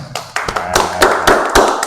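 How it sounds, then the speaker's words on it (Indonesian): Students in a classroom applaud together, a short burst of many hands clapping close by and fairly loud, with no voices over it. "Tepuk tangan untuk kita semua."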